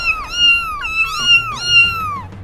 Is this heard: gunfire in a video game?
no